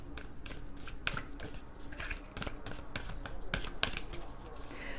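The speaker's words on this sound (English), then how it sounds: "I'll shuffle them a bit more." Tarot cards shuffled by hand at close range, a steady run of quick riffling snaps and soft slaps repeating about twice a second over a low background hum.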